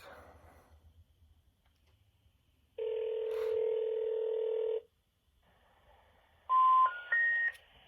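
Telephone dialing heard alone: a steady two-tone dial or ring tone lasting about two seconds, a pause with faint hiss, then a short burst of rising DTMF keypad beeps near the end, fairly quiet overall.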